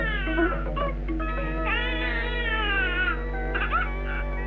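A voice imitating a baby's wailing cry, played back from a tape recorder in a Tamil film scene: a continuous, loud, rising and falling whine that carries over a steady low hum.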